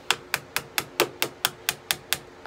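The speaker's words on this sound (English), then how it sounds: "Hammer your pins through." Steel pins hammered through knife handle scales propped over vise jaws: ten sharp, evenly spaced metallic taps in steady rhythm, close and clear with no talk.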